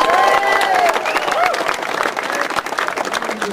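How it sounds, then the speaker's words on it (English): A crowd at a Queen's Diamond Jubilee honoured citizens event in Lyme Regis applauds with steady, dense clapping that fills the whole stretch, while a voice carries over it at the start. "please give your applause for Julia Durrant"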